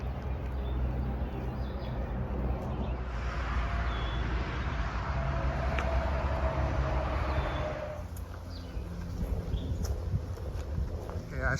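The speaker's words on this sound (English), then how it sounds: "all that traffic noise you're hearing is the Pennsylvania Turnpike." Steady roar of Pennsylvania Turnpike highway traffic with trucks passing, a continuous broad rumble that swells and eases, heard from a moderate distance on a hiking trail.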